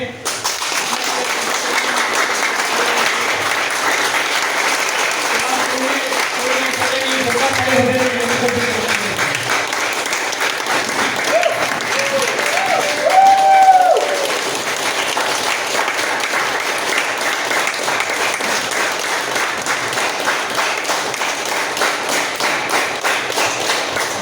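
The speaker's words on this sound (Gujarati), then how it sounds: "धन्यवाद जोरदार ताली आप सभी तो करियो" An audience at a group program applauds loudly and steadily, sustained clapping filling the room for the full stretch with a brief louder swell partway through.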